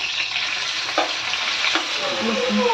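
Chopped onion and curry leaves frying in hot oil on a tawa give off a steady, bright sizzle, with a few soft scrapes of stirring close by and no talking.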